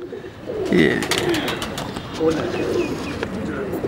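Takatak-breed pigeons coo in soft, low, rolling calls, joined by a few high chirps, while people talk nearby over the birds.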